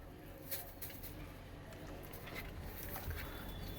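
Purebred pigeons coo softly in a loft or coop, low murmuring calls repeating under a steady background hum with faint fluttering and patter, fairly quiet and close.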